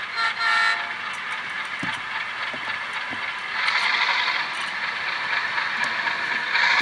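A Rapido RS-11 model train locomotive runs along the track through tight switches, a continuous whirring motor hum with scattered clicks and rattles that swells slightly partway through.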